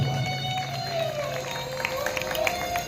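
Audience at a Bhagavat katha religious discourse in a temple clapping steadily, a dense patter of many hands mixed with faint cheering and a sustained musical drone underneath.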